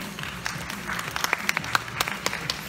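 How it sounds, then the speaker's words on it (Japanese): At a Japanese physique competition, a sparse scattering of individual hand claps sounds quietly through the hall as the men's athlete model masters champion is called to the stage, with audible gaps between the claps. "大きな拍手を送ります。"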